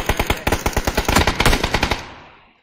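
Automatic gunfire in a shooter video game rattles out as a rapid, evenly spaced burst of loud sharp shots, close and dense, then cuts off and trails into a short echoing decay.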